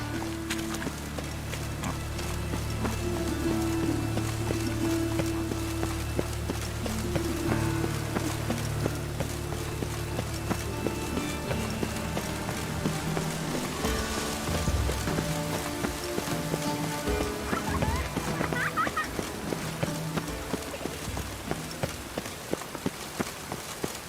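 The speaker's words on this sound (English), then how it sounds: "It just rains and rains." Rain falls steadily throughout a video game scene, a continuous soft patter on surfaces with occasional faint knocks and thumps mixed in, along with quiet game sounds and music beneath.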